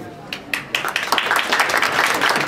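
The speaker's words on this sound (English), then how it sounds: "Give a round of applause for our panelists, everybody." A panel audience breaks into applause for the panelists, beginning with a few scattered claps and growing into a dense, steady clapping from many hands, with a voice speaking over it.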